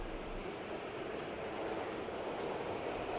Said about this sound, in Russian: Станция метро Спортивная.